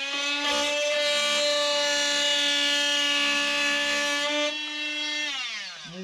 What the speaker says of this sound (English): So I'm using a wood and metal blade, and it's a carbon Dremel something.